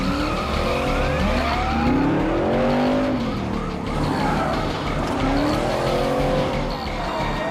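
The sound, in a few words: car starting and speeding off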